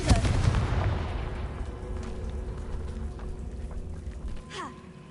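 Blasting spell bursting a barrier in Hogwarts Legacy, heard as a loud booming impact at the start that rolls into a sustained crackling rumble, ending with a brief whooshing flare before fading.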